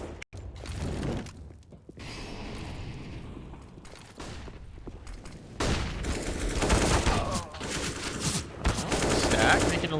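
Rapid bursts of USP pistol and other gunfire in a Counter-Strike match on the Nuke map, loud sharp shots with clattering mechanisms, quieter at first then dense and continuous toward the end.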